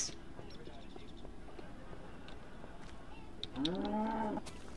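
A cow moos loudly and close by in Minecraft, one long drawn-out bellow near the end over steady outdoor game ambience with faint clicks.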